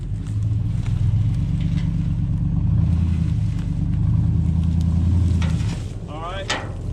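A vehicle engine rumbles and revs steadily outdoors, straining to pull a buried, abandoned 1940s Chevy trailer free, holding a loud low drone before easing off near the end, with a voice speaking briefly.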